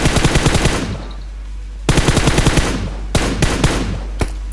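Rapid bursts of automatic gunfire in the mobile battle-royale game PUBG Mobile, loud and close, with a long rattling volley followed by a pause and then several shorter spaced bursts.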